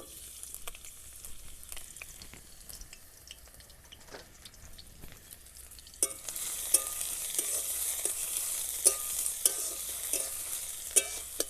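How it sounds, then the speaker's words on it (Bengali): Chopped onion hits hot white oil in a wok and starts frying, with a soft stirring and scraping in the first half and then a loud, steady sizzle from about six seconds on. Occasional utensil clicks are heard and no one speaks. "পেঁয়াজটাকে লাল লাল করে ভেজে নিতে হবে"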